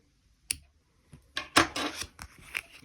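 Scissors snip through yarn while a tassel is made: a single sharp cut, a pause, then a close cluster of snipping and rubbing sounds, with no one talking.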